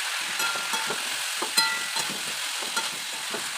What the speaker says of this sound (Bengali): এগুলোকে কষিয়ে নেবো।